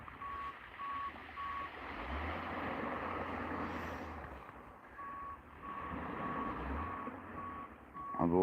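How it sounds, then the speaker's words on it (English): A beach bulldozer beeps repeatedly while reversing. Its engine drones steadily underneath, the beeps stop for a stretch in the middle and then resume in a regular rhythm. "That's the truck. That's the basically bulldozer."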